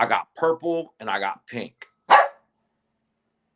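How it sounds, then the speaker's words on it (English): Someone talks, and then a dog gives one sharp bark nearby before silence. "Hey, what you barking at, boy? That's my dog."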